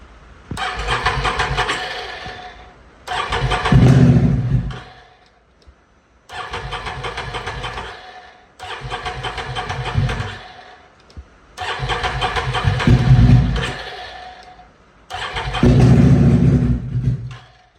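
A Can-Am Renegade ATV engine cranks repeatedly in the cold, several long grinding starter bursts separated by pauses, with rough catches and sputters that never settle into a steady idle; loud and close.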